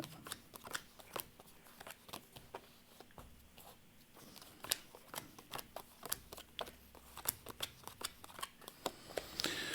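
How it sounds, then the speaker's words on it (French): Tarot cards being drawn and shuffled during a live French fortune-telling broadcast, a steady run of crisp papery flicks and slaps up close, with soft rustling between them and no voices. "C'est ça pendant que je tire les cartes, bien sûr."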